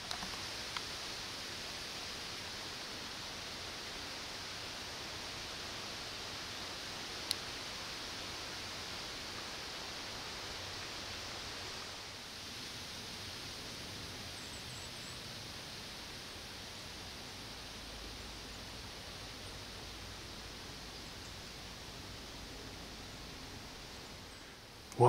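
Steady wind blowing outdoors during a morning hunt, a broad continuous rushing hiss that stays fairly even throughout, with no talking.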